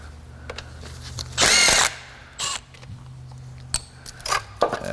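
A power drill or impact tool spins off a 10 mm bolt on a Honda J-series V6 valve cover, one loud sustained whir up close followed by shorter, quieter bursts and faint clicks of handling.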